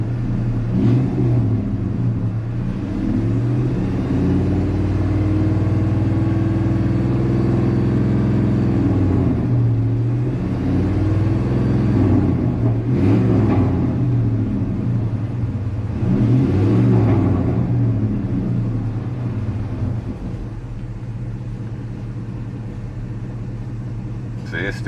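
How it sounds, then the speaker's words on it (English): A 2003 Ram 1500 with a Hemi V8 revs repeatedly during thermostat and housing work, its deep rumble rising and falling in long swells up close while people talk over it throughout. "Keep revving it up."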